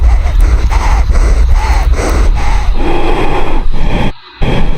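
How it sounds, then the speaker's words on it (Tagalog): A nervous cliff jumper breathes heavily and unevenly right at the microphone, a run of loud close gasps and huffs that cut out abruptly near the end. "Yung paghinga niya, halata mong kinakabahan talaga siya"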